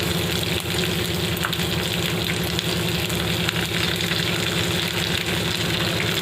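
Chopped onions frying in a pan with mustard seeds for semiya upma, a steady close sizzle that stays even and continuous throughout with no talking.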